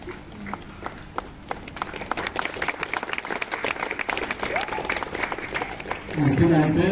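A crowd at a send-off party claps together, the crisp patter of applause rising and swelling toward the end while voices talk over it.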